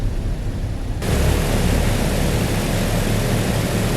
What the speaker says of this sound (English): There goes our flaps.